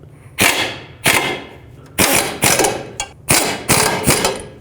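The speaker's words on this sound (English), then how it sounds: "With a 16mm wrench, I'm going to hold the bolt and 16mm socket," Ratchet with a 16mm socket snugging a nut on a ball joint bolt of a 2005-2009 Chevy Equinox, heard as loud, close bursts of rapid clicking in about six short runs with brief pauses, no talking.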